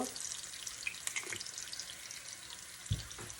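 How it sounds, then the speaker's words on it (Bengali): Onion fries in hot oil on a stove as cumin seeds go in for tempering, giving a soft, steady sizzle with scattered light crackles and a dull clunk near the end. "আমি পেঁয়াজ দিয়ে দিলাম চুলার মধ্যে তেলের মধ্যে আর এখন আমি একটু জিরা ফোড়নি দিব"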